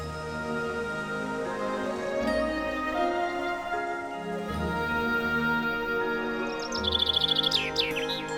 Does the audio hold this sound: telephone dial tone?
no